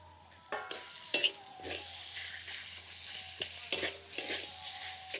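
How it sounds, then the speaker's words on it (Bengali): Boiled katla fish is stirred with ground spices in a pan, with a soft sizzle beneath repeated sharp scrapes and clinks of the spatula against the pan, spaced irregularly and close by. "এবার মশলার সাথে মাছটাকে ভালো করে কষিয়ে নেবো"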